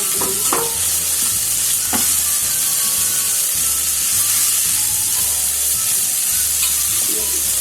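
Chicken stir-frying with shredded cabbage, onion and carrot in a hot pan, a steady loud sizzle throughout with repeated scraping stirs and occasional clinks of the utensil, no talking.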